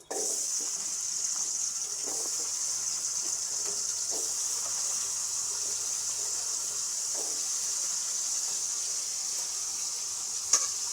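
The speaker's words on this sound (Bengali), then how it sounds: "আলুটা একটু ভাজতে দিই" Potatoes frying in a spoonful of oil, a steady bright sizzle that holds evenly throughout, with a few faint clicks and a sharper tap near the end.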